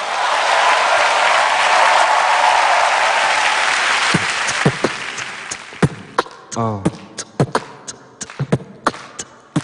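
On a Korean TV music talk show, a studio audience claps loudly in a dense burst that thins after a few seconds into scattered, sharper individual claps and thuds near the end.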